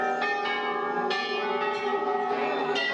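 Many temple bells ring continuously at Chitai Golu Devta temple in Uttarakhand, with dense overlapping metallic tones and fresh strikes layered over a sustained shimmering wash, loud and close.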